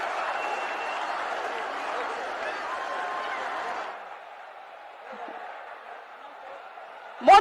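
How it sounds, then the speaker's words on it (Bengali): A large crowd applauds and cheers in welcome of Narendra Modi at a Bengal election rally, a steady dense wash of clapping that drops to a quieter murmur partway through before a sharp loud burst at the end. "আমাদের মধ্যে নরেন্দ্র মোদীজিকে জোরে হাততালি দিয়ে স্বাগত করুন, জোরে হাততালি"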